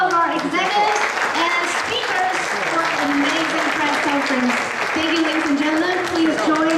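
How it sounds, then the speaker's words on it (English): Audience applause at an AMD press conference at Computex 2014, a steady dense wash of clapping throughout while an amplified voice speaks over it. "would you please all give your round of applause to all of our executives and speakers for an amazing press conference"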